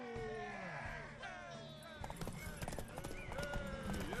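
Rhythmic hoofbeats of a horse galloping in a race in The Witcher 3, clip-clop steady and close, with a whinny and game music, while voices shout encouragement over the hooves.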